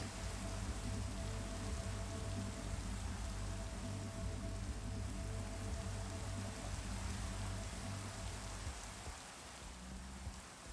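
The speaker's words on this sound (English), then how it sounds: "Why was rain invented? This is the worst." Steady rain pours down in a Minecraft world, a dense, even hiss filling the whole stretch with no break, easing only slightly near the end.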